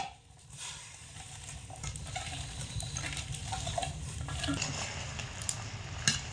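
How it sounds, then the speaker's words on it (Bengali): Chopped, washed cabbage being stirred in a pot of boiling water with a pinch of turmeric, a steady close bubbling hiss with scraping stirs and occasional clinks, no voices. "এবার এখানে কেটে ধুয়ে রাখা বাঁধাকপি দিয়ে দেব জলের মধ্যে।"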